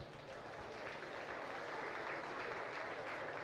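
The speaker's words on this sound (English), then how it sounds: "Give her a nice round of applause." Audience applause for a class winner at a county fair livestock arena show, a steady distant-sounding patter of clapping with no talking.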